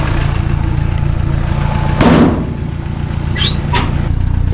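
A 1958 Willys Jeep CJ5 engine idles as it warms up, a steady close chugging hum with a brief louder swell and a few clinks and squeaks over it.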